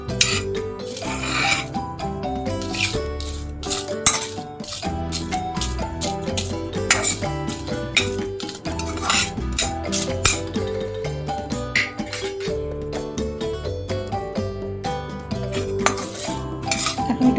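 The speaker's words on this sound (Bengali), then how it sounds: "যতক্ষণ এটার থেকে রোস্টেড গন্ধ বেরোচ্ছে না ততক্ষণ এটাকে হালকা চালাতে হবে।" Whole spices dry-roasting in a pan for kachori, stirred continuously with a utensil that clinks and scrapes against the metal in a busy, rapid rhythm over a steady tonal musical backdrop.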